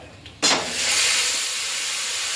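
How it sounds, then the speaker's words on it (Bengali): A sudden loud sizzle as spice paste of ground tomato, ginger, chilli and onion hits hot oil tempered with black cumin for a spicy fish curry, settling into a steady close hiss without talk. "কালো জিরে ফোড়ন দিয়ে এবার ঢেলে দেবো এই যে মশলাটা করে রেখেছি আমি"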